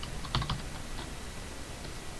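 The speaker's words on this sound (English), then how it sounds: "And put my password in." Short burst of a few key presses on a computer keyboard while entering a password, quiet and close, followed by near silence with one or two faint later taps.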